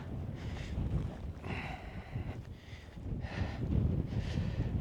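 Wind blows steadily across an exposed, rocky wild-camp viewpoint, a loud broadband rush that swells and eases in gusts with buffeting against the microphone and no voices.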